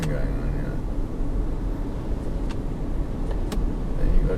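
A Ford Everest V6 Wildtrak driving in eco mode, a steady low engine and road hum from inside the cabin with a couple of faint clicks, constant and moderately loud.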